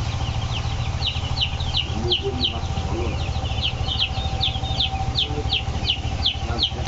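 Some 800 young broiler chicks on a poultry farm, about five days old, cheep in a dense, continuous chorus of rapid high peeps over a constant low hum, with no speech.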